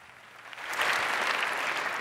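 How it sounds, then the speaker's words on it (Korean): An audience at a church leader's address bursts into applause, the clapping swelling from quiet to a full, steady roar of many hands that carries through to the end. "다시 한번 박수를 보내주십시오."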